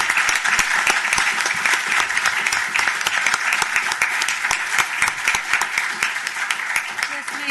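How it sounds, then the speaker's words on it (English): Audience at a panel discussion on Puerto Rico's law and economy gives the panelists a loud, sustained round of applause, dense steady clapping filling the whole stretch without a break. "give them a huge round of applause"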